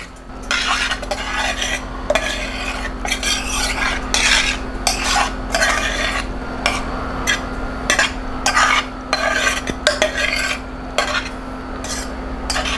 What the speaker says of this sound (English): just throw it right into the same pot